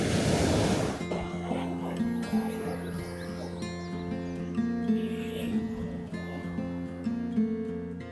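Roaring sea waves at Chandrabhaga Beach near Konark under an overcast sky: a steady rushing surf that sits under tonal music.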